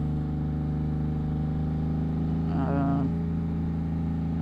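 A Yamaha MT-09 motorcycle fitted with a Two Brothers exhaust, its engine droning at a steady idle-like hum with a brief rise in revs midway, close and continuous.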